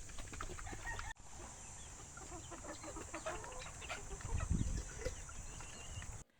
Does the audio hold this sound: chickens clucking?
yes